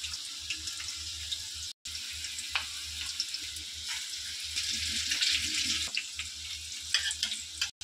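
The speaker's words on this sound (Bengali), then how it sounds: "দেখো, এটাতে কিন্তু বেসন পেঁয়াজি ছাড়া হচ্ছে।" Besan onion pakoras frying in hot oil, a steady crackling sizzle with bubbling that grows denser midway, punctuated by occasional utensil clinks; no one speaks.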